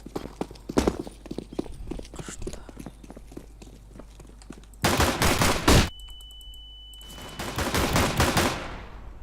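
Counter-Strike: Global Offensive match: scattered clicks and small shots give way to two loud, sustained bursts of rapid automatic gunfire close up.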